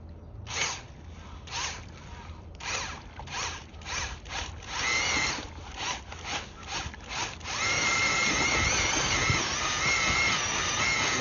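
A Milwaukee two-speed mixing drill whirs in a string of short, moderately loud bursts, then settles into a continuous run of mixing with a faint high whine.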